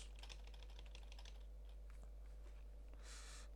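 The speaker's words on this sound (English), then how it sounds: "So let's go and type" Typing on a computer keyboard while setting up a live chat site: quick, irregular key clicks in a short burst, then a pause and a final soft clatter, faint and close over a steady low hum.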